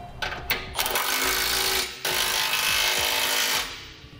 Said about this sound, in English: Now I'll take a 3/4 inch socket and tighten our hardware that we put into the subframes.